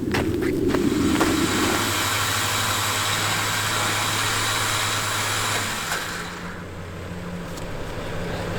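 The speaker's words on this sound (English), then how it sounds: "like many electric motor devices, the winch has a duty cycle" An electric winch pulling in winch line: a steady motor hum and whine under broad mechanical noise, with a few sharp clicks early on, then the tone shifts and the sound eases before settling into a lower, lighter hum.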